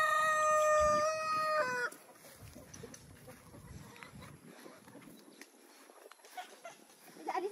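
Rhode Island White chickens in a coop: a rooster's drawn-out crow opens the scene, followed by soft, scattered clucking and rustling from the flock nearby.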